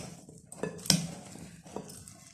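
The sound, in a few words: mixing lobia channa chaat ingredients together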